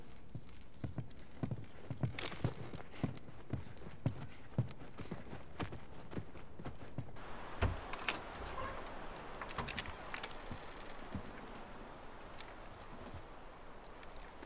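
Horse hooves clip-clop in a steady walking rhythm, close and fairly crisp in The Last of Us, with the beat thinning out later under a soft gritty ambience.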